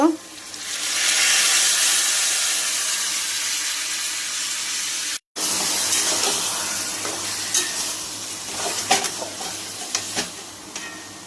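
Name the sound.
spice paste frying and being stirred in pan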